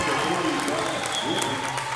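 Crowd at a high school basketball game between Marshall and Sloan-Hendrix breaks into steady, sustained applause and cheering, filling the gym for two seconds with faint voices underneath.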